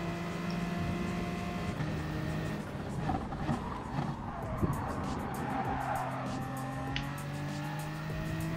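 A race car engine in Gran Turismo Sport held at full throttle up a hill, a steady droning whine with sustained harmonic tones and brief tire-scrub noise, constant and loud throughout.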